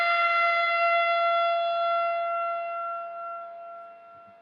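Electric guitar holding one sustained note that rings clearly at first and then slowly fades. It is close and alone, with a faint soft knock just before the end.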